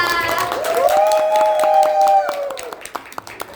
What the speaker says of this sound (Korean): 큰 박수로 미팅을 시작합니다.